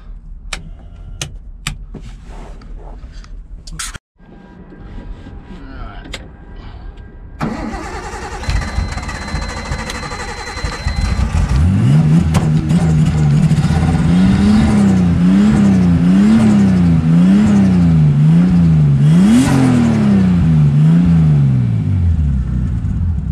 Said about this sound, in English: This thing starts like straight away. Might have to give it some gas.